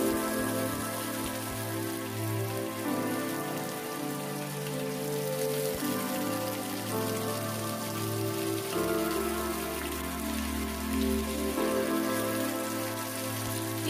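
Chopped onions fry in oil with chilli and cumin for a vegetable curry, a steady crackling sizzle like rain that carries on evenly throughout, with a faint tonal hum underneath and no talking.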